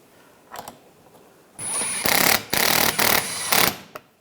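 A power tool drives headlight assembly screws on a 2013–2016 Dodge Dart. It runs in loud, close bursts: a short blip, then a sustained whir and three more spins separated by brief pauses.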